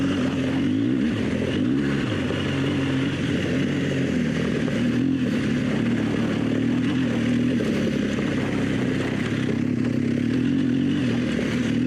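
A BMW R1200GS motorcycle riding on Michelin Anakee adventure tires across sand in second gear, producing a steady, loud engine drone with wind and rumble, close and continuous without a break.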